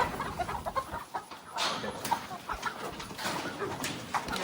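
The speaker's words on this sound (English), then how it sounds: "Gotta be a rooster, right?" Clucking and squawking from a rooster close by, with rustling and scuffling throughout and faint voices in the background.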